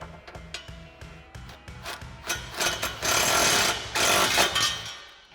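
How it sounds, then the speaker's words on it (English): A 13mm socket on a swivel and long extension tightens an exhaust clamp during a cat-back exhaust install on a Challenger, with quick ratcheting clicks, then louder scraping metal rattle, close by and without talk. "Now you can grab a 13mm socket, a swivel socket, and a long extension, and we can tighten this up."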